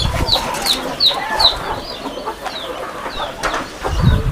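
Chickens cluck steadily inside a free-range poultry shed where hens sit on eggs to hatch them and chicks are kept, with repeated sharp peeps and clucks close by and no talk over them.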